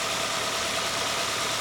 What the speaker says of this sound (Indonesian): Di sini mesin dalam keadaan menyala dengan suara mesin normal.